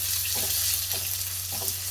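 Raw mango rice (chitranna) with grated coconut and coriander, cumin and pepper powder is stir-fried in a pan, giving a steady close sizzle with three rhythmic stirring scrapes.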